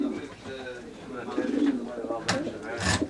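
Racing pigeons gathered behind a football club coo in soft, repeated rolling calls at close range, with a few brief rustles and flutters breaking through.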